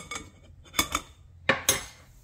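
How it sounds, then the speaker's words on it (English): A metal spoon scrapes chili seed and garlic mash through a kitchen strainer for homemade garlic-chili pesticide, giving four sharp scraping strokes in two quick pairs, close and clear with short pauses between. "So I just like to strain out as what I can, so I scrape"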